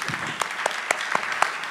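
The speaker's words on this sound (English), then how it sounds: "A huge round of applause for that." A small audience applauds a marathon runner at an interview event, the claps sparse and separately audible, a handful of hand strikes spaced across the moment at moderate distance.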